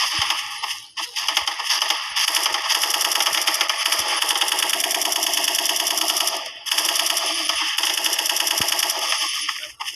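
Rapid automatic gunfire in the online shooter game Special Force rattles out in long sustained bursts, loud and close, with one brief pause midway before the firing resumes.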